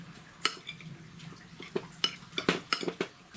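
A spoon scrapes and clinks against a bowl while herb mixture is stirred with rapeseed oil for a medieval-style herb crust, giving a few sharp, quiet clinks at irregular intervals in a calm room.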